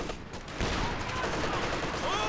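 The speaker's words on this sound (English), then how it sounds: "MG working nicely, gets the suppression" Sustained machine gun fire in Company of Heroes 2, a dense continuous rattle of rapid shots with battle noise in the background.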